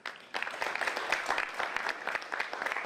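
Steady, dense applause from an audience at a poetry festival reading at the University of Limerick, sustained for a few seconds at moderate distance with no voices over it.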